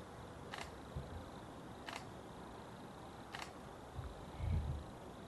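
A camera shutter clicks three times, evenly spaced and fairly faint, each a single crisp snap from about ten metres away without an anti-noise cover, over a quiet outdoor background.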